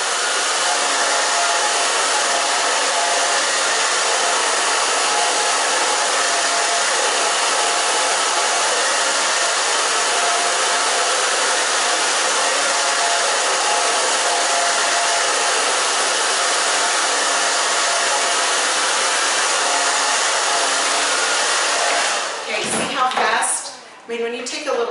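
A handheld hair dryer blows a steady, loud rush of air while medium-length hair is dried section by section with a round brush, continuous for most of the stretch before sputtering and cutting in and out near the end.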